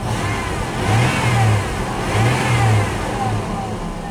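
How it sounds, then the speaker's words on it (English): A car engine revs in two quick throttle blips that swell and fall back to a steady idle, loud and close, with no talking. "Blip the throttle a little bit."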